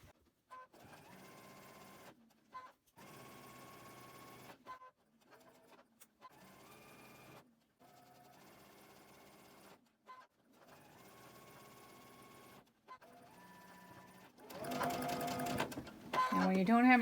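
An electronic sewing machine stitches quilt blocks in short bursts separated by brief pauses, its close, whirring motor stopping and starting repeatedly while a person talks over it.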